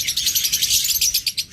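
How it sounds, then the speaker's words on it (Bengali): Pet lutino opaline birds with red eyes and top markings chirp busily, a rapid, near, bright run of repeated high tweets and trills with no talking. "লুটিনো অপালাইন টপ মার্কিংয়ের পাখি।"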